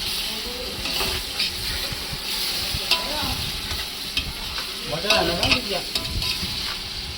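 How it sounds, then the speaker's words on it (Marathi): Onion and masala paste fry in a pan with a continuous hiss, while a spoon stirs through it in scraping strokes that grow busier toward the end, close and fairly loud. "थोडासा कांदा लाल झाल्यानंतर वाटण टाकायचा"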